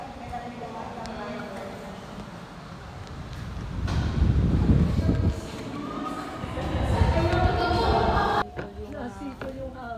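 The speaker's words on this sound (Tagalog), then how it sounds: "Nasito yung hangin." Wind blowing outdoors at a hilltop shrine in Batangas, a steady rumbling roar on the microphone that swells louder midway and again later, with people talking throughout.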